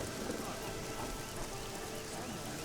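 Winter rain falling outside in a city, a dense, steady hiss of drops on surfaces at low volume throughout.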